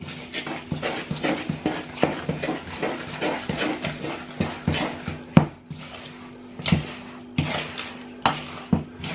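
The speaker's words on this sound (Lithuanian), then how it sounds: "Dabar labai gerai išmaišom." Spoon or spatula stirring carrot and raisin cookie dough with soda and citric acid in a bowl, giving a steady run of close scraping, clacking strokes in a brisk rhythm, heard alone.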